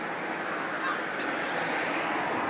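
Seaside birds call by the sea in the morning, with faint squawks and cries scattered over a steady wash of ambient noise, distant and soft rather than close.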